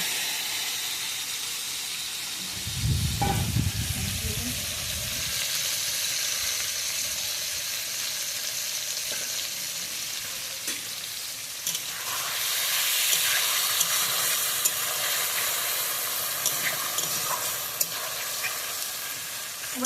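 Spice paste hits hot oil for a small maya fish jhal, producing a continuous soft hiss and sizzle with a brief low rumble early on, steady and fairly quiet throughout.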